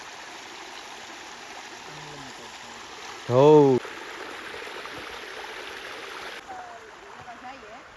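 Water flows in a village stream as a steady, even rushing wash throughout, with one brief loud vocal call partway through.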